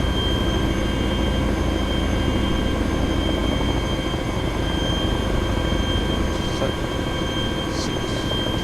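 A transport helicopter flies in ArmA 2 at about 200 to 250 altitude during a para airdrop, its rotor and engine giving a steady, loud drone with a constant whine and no talk.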